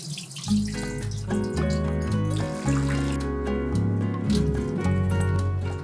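Basmati rice is rinsed by hand in water, several changes over, with running water and sloshing heard steadily throughout, set against a continuous tonal background of music.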